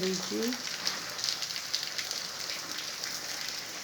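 Heavy rain falls as a steady, dense hiss that carries evenly throughout, with a brief voice heard near the start.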